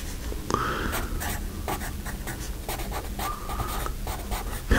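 USA Gold pencil writing on paper, a steady scratchy graphite scrawl with short pauses between strokes, close and moderately loud with no talking.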